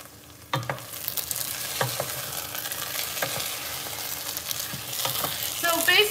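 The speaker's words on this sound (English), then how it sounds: "You wanna stir it after the sizzling goes down a little bit." Steady sizzling and crackling of homemade marinara tomato sauce frying in a pan, with a few sharp clanks of a utensil against the pan.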